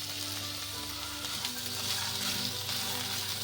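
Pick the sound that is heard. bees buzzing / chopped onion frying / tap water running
chopped onion frying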